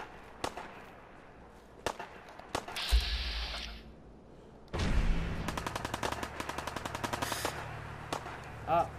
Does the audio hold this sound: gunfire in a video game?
yes